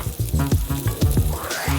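Diced bell peppers frying in a pan give a loud, close sizzle, with rhythmic stirring or tossing scrapes repeating about every quarter second.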